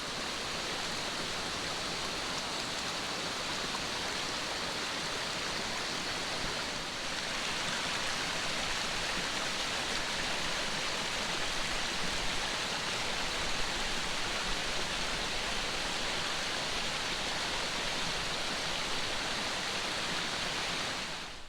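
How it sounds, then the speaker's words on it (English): Many small waterfalls trickling and cascading down rock at the Place of 1,000 Drips in Great Smoky Mountains National Park, a constant, even wash of falling water heard close and loud without a break. "Instead of one big waterfall, it's a bunch of little tiny ones kind of cascading down."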